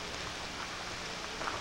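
Steady rain falling outdoors across the yard of the Vanderbilt estate, a soft, even hiss of drops on surfaces at moderate distance, continuous throughout with no voices.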